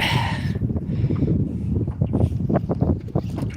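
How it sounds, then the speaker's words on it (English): Wind blowing by the water during a fishing trip, a loud steady roar of gusts buffeting the microphone, with a faint rhythmic knocking underneath. "the wind is coming from that end, coming down and going this way"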